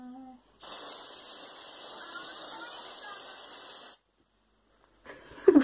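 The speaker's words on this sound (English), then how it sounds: "I think I'm just gonna spray it." Purple hair dye sprayed from an aerosol can in one steady hiss lasting about three seconds, close and fairly loud, with a short voice before it and brief sounds after.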